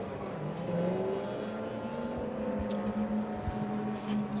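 A race car pulls away from the pits at a Rockingham club enduro on a new tyre, its engine droning steadily and fairly loud across the whole stretch, with a faint rise in pitch as it goes.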